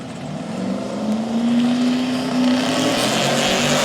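A Chevrolet Monte Carlo drag car roars down the strip at a drag racing event, its loud engine note climbing steadily in pitch as it accelerates, with a second engine blending in.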